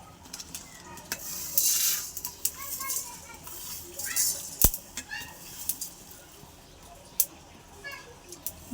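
Cumin, fennel and coriander seeds dry-roast in a pan for a raw mango pickle. A soft, continuous rustling hiss runs under scattered scrapes and sharp clicks of stirring, with faint background voices.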